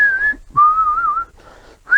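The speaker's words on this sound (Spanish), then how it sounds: "La silbaba la guadalupana." A person whistles the hymn La Guadalupana in clear, sustained, melodic phrases with short pauses between them, close and loud with no talking.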